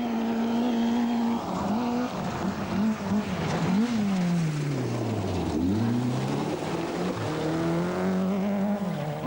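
A Vauxhall Astra GTE rally car on a stage of the 1988 RSAC Scottish Rally drives hard, its engine loud and continuous, pitch climbing and dropping through gear changes with a sweeping dip midway.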